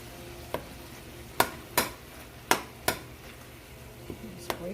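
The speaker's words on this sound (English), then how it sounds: "Okay, so the hamburger is cooking. I'm just going to break it up." Hamburger mince sizzling steadily in a pan for a Mexican fideo soup while a utensil breaks it up, giving a string of sharp scraping knocks at irregular intervals over a continuous close fry.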